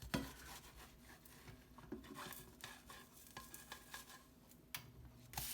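Pancake batter made from a boxed mix sizzles steadily in a hot pan right after being flipped, a continuous close crackle with occasional soft scrapes and clinks of a utensil against the pan.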